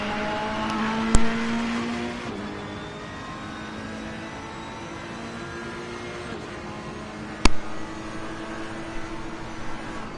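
Ferrari V8 twin-turbo GT3 car accelerating hard in a racing game, chasing an Audi 5.2 V10 GT3: a steady engine drone with rising tonal whine, steady level throughout, with two sharp clicks standing out.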